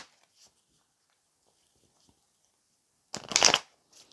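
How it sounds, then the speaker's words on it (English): Tarot cards being shuffled in a single quick burst of riffling, close and fairly loud, preceded by near silence with a few faint handling ticks. "So let's just give these a shuffle."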